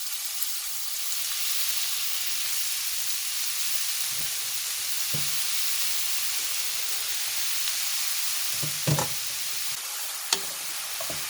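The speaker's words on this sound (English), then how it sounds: "Roast carrots in the ghee for at least 3 minutes." Grated carrots, a kilo of them, roast in ghee in a pan with a steady soft sizzle and hiss, stirred now and then with brief scraping knocks near the end.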